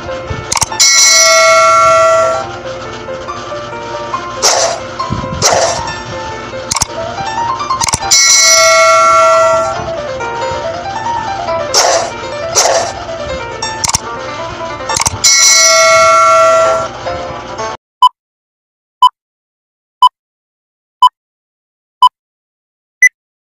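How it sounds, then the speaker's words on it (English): A notification bell sound effect rings through a dense, loud stretch of overlapping bright chimes and clangs, then about six separate clean dings follow at a steady beat, each sharp and ringing out alone. "the notification bell."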